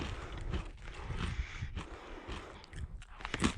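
Close-up chewing of crunchy Kettle spicy queso crinkle-cut potato chips, with soft, repeated crunches and muffled mouth sounds.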